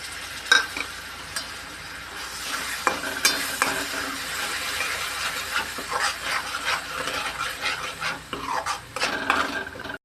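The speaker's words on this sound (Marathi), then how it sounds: "आता आपण टोमॅटोची पेस्ट टाकू।" Tomato paste frying in a pan for Bombay-style pav bhaji, with a steady sizzle and repeated stirring scrapes and utensil clinks, close up and without talk.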